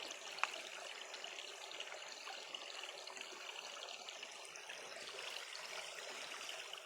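Faint, steady trickle of flowing water, quiet and continuous with no voices.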